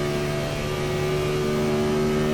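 A 2003 Gen 4 stock race car engine in iRacing at Michigan, a loud, steady high-speed drone with strong sustained harmonics and no pauses.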